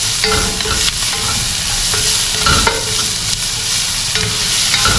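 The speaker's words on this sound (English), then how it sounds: "Mix them all up. Mix. Just saute everything." Onions, ginger and garlic for chicken tinola sizzle steadily in a hot pan, with a utensil scraping and stirring at intervals over the continuous frying hiss; no talking.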